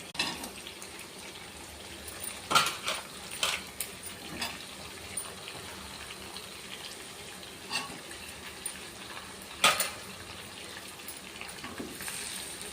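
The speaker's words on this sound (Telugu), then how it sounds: "ఇక బంగాళదుంపలు వేసేస్తా." Boiled potatoes drop into a pan with fried onion and turmeric and are stirred, giving a soft continuous sizzle broken by scattered scraping knocks and clatters of a spoon.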